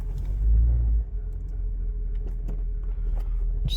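A Buick engine with badly worn motor mounts idles roughly nearby, a low uneven rumble with a heavier surge early on and scattered knocks and clunks over the steady drone.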